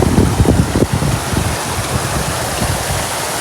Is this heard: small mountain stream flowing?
yes